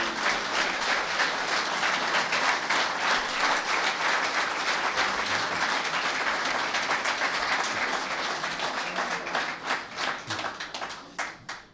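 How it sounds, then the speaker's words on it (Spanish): A large audience at a Latin American cooperative conference applauds, a dense continuous roar of clapping that holds steady for several seconds and then thins into scattered claps as it tapers off. "no sé si me aplaudieron por compasión"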